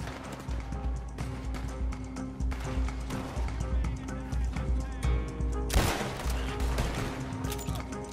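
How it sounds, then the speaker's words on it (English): Rapid video-game gunshots strike a wall in a dense, continuous volley, with a louder burst of impacts near the end, all under steady game sound and background noise. "Are you still shooting at the wall?"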